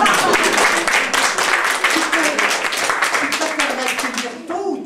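A crowd applauds with a loud, sustained patter of many hands clapping close by, with voices mixed in, easing off toward the end.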